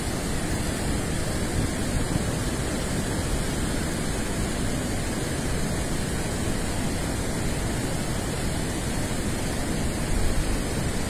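The muddy Tanaro river in flood flows past a bridge, a steady broadband rush of water that stays even and fairly loud throughout, with no voices.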